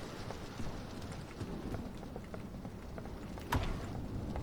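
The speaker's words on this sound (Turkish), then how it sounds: "Yağmur sesleri." Steady rain patters across a broadband wash with scattered soft thuds and a brief louder knock near the end, no voices, in the video game Doors.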